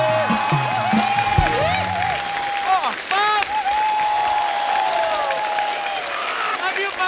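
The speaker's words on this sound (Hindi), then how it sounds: "कृष्णा के लिए जोरदार तालियां हो जाए" A studio audience on a TV comedy show applauds a comedian with a loud, sustained wash of clapping, while a musical sting and tones ring out over it.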